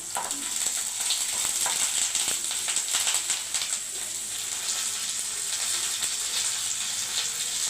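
Curry leaves and spices, with garlic, fry in a pan for a ridge gourd chutney, giving a steady close hiss and sizzle with occasional light crackles throughout.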